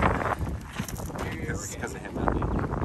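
Gusty wind buffets the microphone with a rough, roaring rumble, rising and falling throughout, while people speak underneath during an outdoor drone shoot.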